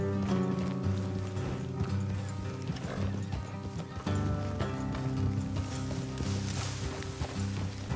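Rhythmic hoof clip-clops from horses in Red Dead Redemption 2 move along beneath a continuous musical score, with a brief whinny amid the steady trotting.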